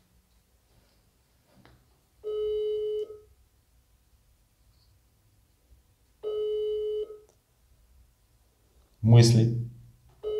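An unanswered phone call ringing tone: two long electronic ring pulses spaced a few seconds apart, clear and steady, with a brief spoken word and a louder voice burst near the end.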